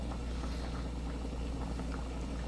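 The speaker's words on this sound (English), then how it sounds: "You add a little bit of oil" Beans bubble steadily in a pot of water being cooked for refried beans, a soft continuous low boil with small pops and gurgles, fairly quiet and without talk.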